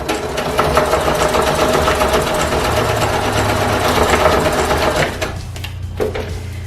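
A sewing machine stitching elastic onto retro gym shorts, a loud continuous close mechanical whir that drops to a lower hum near the end.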